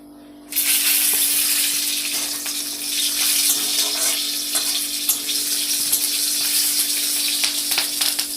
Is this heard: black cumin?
yes